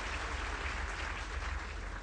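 Steady, dense applause from an audience at a public event in Panchkula, filling the whole stretch at a moderate, distant level with no individual claps standing out.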